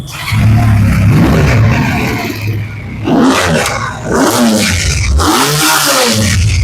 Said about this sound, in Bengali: তো আমরা আবার একটু বাইকের সাউন্ডটা শুনি